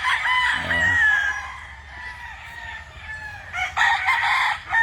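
Roosters crowing and chickens clucking at a cockpit arena farm in the Philippines, with loud, close overlapping crows and clucks and faint background talk.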